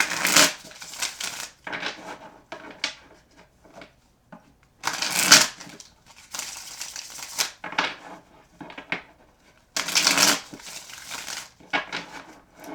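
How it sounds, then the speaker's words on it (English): Tarot cards being shuffled in several bursts of riffling and snapping, separated by short quiet pauses and softer handling sounds. "So I do like to shuffle on camera"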